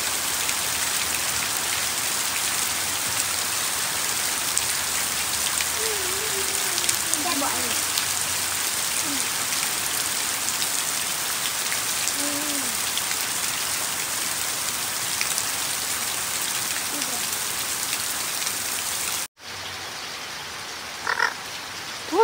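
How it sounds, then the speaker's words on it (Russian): Steady rain falls outdoors in a cool setting, a constant even hiss of drops on surfaces, with a few faint low grunting sounds scattered underneath and a brief dip near the end. "Еще очень кайфово, когда идет вот так дождь, прохладно"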